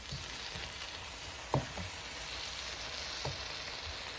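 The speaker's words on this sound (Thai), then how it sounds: "แล้วก็เอาไปผัดแค่นั้นเลยจ้ะ" Thai chili paste with pork stir-fried in a pan gives off a continuous quiet, even sizzle, broken by a couple of brief knocks from the stirring utensil.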